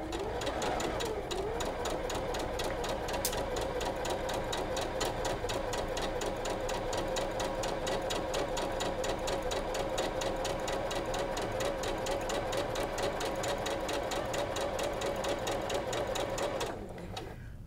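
A sewing machine chain-piecing quilt fabric pieces for an hourglass four-patch block with a quarter-inch seam, a steady rapid mechanical whirring and needle clatter running continuously, close, then stopping at the end.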